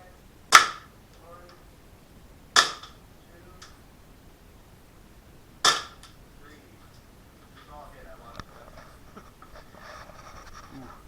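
Three sharp, loud cracks from an SSP1 airsoft pistol fired at a target about ten feet away, spaced a couple of seconds apart, followed by faint ticks and rustling.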